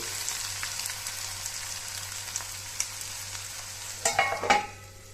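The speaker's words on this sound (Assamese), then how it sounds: "এয়া পেটু ভজা হৈ গ'ল।" Fish belly pieces fry in a pan with a soft, even sizzle, then several sharp clattering knocks near the end as they are turned or stirred.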